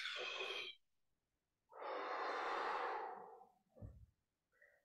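Deep breaths taken in and out during a golf strength and hip mobility stretching exercise: a loud close inhale, a pause, then a longer, heavier exhale followed by a softer breath and a faint sound at the end.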